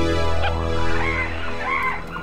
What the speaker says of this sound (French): Mais enfin, ce sont des flamants roses, Bernie.